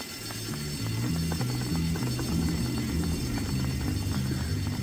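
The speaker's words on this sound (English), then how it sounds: "I'm gonna pull the fire alarm." A fire alarm in the video game Bully rings steadily throughout, a continuous bell-like warbling tone with an electronic hum, and no talking over it.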